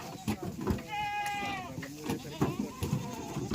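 A pregnant goat gives a clear, wavering bleat close by, with people talking loudly around it in a farmyard setting.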